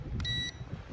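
A new foldable GPS drone gives a single short electronic beep when its button is pressed, a bright tone lasting about a third of a second over a low background rumble.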